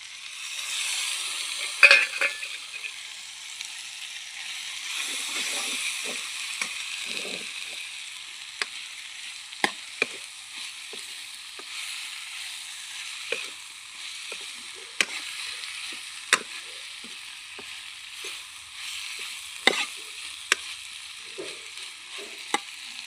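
A vegetable curry with fresh coriander and fenugreek leaves frying in a pan gives a soft, steady sizzle broken by sharp clicks and taps of a spoon against the pan every few seconds, close by, with no talking.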